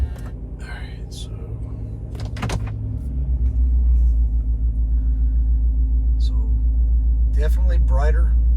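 A Chevrolet Silverado truck engine cranks and settles into a steady, deep idle rumble, close by, with quiet speech at the start and end.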